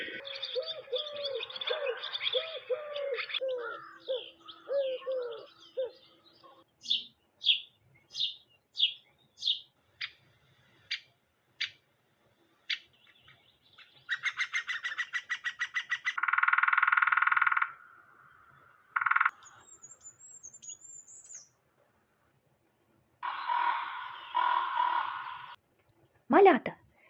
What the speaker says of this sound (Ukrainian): Це голоси пташок.